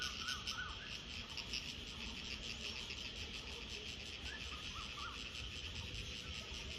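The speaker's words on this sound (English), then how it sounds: "The sound is of a small insect." A small insect chirps in pine trees in a tea garden, a steady, rapid, high-pitched trill that runs without a break, with faint bird calls in the background.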